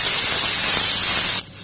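Thuthuvalai leaves sautéing in a hot pan give a loud, close, steady sizzle and hiss that fills the space, then abruptly drops to a quieter crackle near the end.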